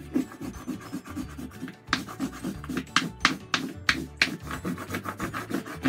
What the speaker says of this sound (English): I'm taking the flat side and I'm just rubbing it along.